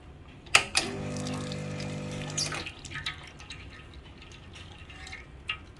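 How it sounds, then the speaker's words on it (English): Tap water runs briefly over an espresso machine's puck screen, a short splashing stream with a few clinks of metal, followed by quieter drips and handling noise. "First, let me rinse the puck screen."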